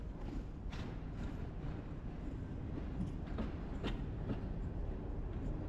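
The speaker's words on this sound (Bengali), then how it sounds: "ওয়েট করার পরে আমাদের সেই বাংলাবান্ধা এক্সপ্রেস ট্রেনটি কিন্তু আসতেছে" The Banglabandha Express pulls into a Bangladeshi station, a steady low rumble of wagons with rhythmic clickety-clack of wheels over rail joints, fairly close and continuous.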